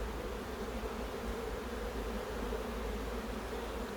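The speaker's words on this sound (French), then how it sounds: "il y a tellement d'abeilles qu'il faut même secouer le cadre" Dense, steady drone of many honeybees crowding a hive frame during a colony inspection, a continuous close buzz without pauses or talk.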